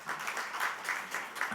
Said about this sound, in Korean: 오늘 훌륭한 개회사 남겨주신 모든 분들께 다시 한번 큰 박수 보내주시길 바랍니다.